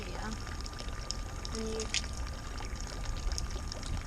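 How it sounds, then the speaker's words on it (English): Water is poured from a ladle at a Japanese temple purification fountain in Nagoya. It trickles and splashes steadily at close range, with a voice and light background bustle alongside. "Fill this up halfway. Don't pour the water back in here."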